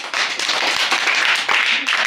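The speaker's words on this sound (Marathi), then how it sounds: "छान टाळ्या वाजवा एकदा" Schoolchildren clap together during a classroom game, a loud, close burst of scattered applause that lasts about two seconds.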